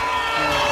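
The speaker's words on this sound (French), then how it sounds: "Applaudissez pour vous-même." Political rally crowd in Koumassi, loud and dense, cheering and shouting in a continuous roar with no pauses.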